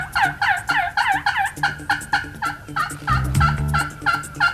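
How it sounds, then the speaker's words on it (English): Wild turkey toms gobbling on all sides in spring woods, loud rapid gobbles repeating and overlapping one another, with a brief deeper rumble partway through. "We heard gobbles from everywhere."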